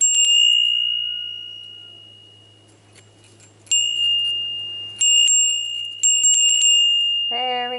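A small decorated metal bell with flower and house designs rings with a bright, sustained tone that slowly fades. It is struck again several times and rings out clearly, and a voice speaks briefly at the end.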